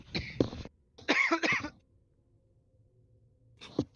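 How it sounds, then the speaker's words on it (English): One person coughs several times in a tabletop role-playing game session, two quick harsh bursts followed by a longer double cough, then a quiet pause and one more short cough. "I'm gonna have a quick cough"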